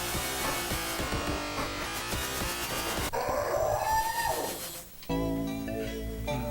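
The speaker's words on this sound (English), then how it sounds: "That howl." A creature lets out a rising, drawn-out howl in the video game Chakan: The Forever Man. It rises out of heavy, dark level music that plays loudly throughout.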